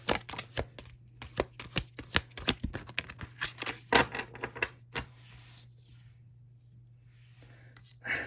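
Oracle cards from an Earth Magic deck being shuffled and drawn, a quick run of close, crisp riffling clicks and slaps, followed by softer rustling as cards are handled.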